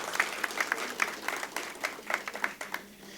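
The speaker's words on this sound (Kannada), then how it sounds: "ಎಲ್ಲರಿಗೂ ದೊಡ್ಡ ಚಪ್ಪಾಳೆ ಬರಬೇಕು ಅಂತ ಕೇಳ್ಕೊತೀನಿ" An audience at a Mysore Association centenary celebration in Mumbai claps, a modest scattering of separate hand claps that thins out toward the end, heard at a moderate distance.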